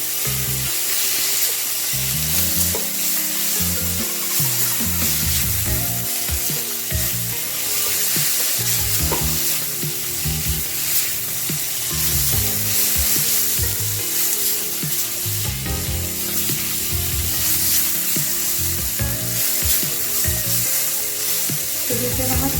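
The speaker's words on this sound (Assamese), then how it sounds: "আৰু অলপমান ভাজি ল'ম মই এইখিনি।" Ginger and garlic paste fries in a little oil with a loud, continuous close sizzle and frequent stirring clatter throughout, with no one talking.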